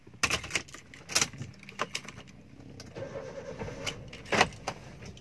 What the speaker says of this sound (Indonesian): coba nyalakan mesin ya,